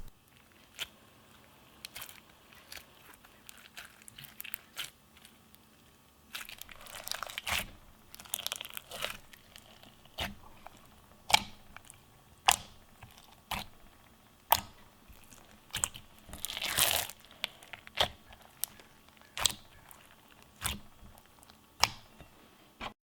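Pale green kiwi slime with black glitter is squished and pressed, giving a steady run of crisp, close crunching and clicking pops, with denser crackly bursts in places and no talk.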